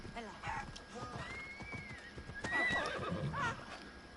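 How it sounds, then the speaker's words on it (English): A horse in the Assassin's Creed Odyssey video game whinnies several times over a run of clip-clopping hooves, with someone talking intermittently over the game sounds. "That's right, you better run from my horse. My horse is mean and angry."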